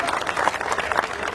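Audience at a Hindi comic poetry show claps in a short, lively burst, with crowd noise mixed into the clapping.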